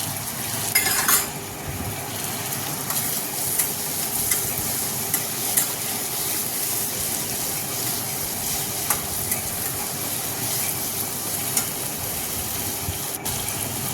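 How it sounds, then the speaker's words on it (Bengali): Tomato, grated garlic and grated ginger sautéing in a pan for ghugni: a steady, close sizzle runs throughout, with scattered scrapes and light clinks from stirring, and no talking. "বাটি নিয়ে আমি আদাও গ্রেট করে নিয়েছি, গ্রেট করা আদা দিয়ে দিলাম। এগুলো আস্তে আস্তে এখন কষাবো।"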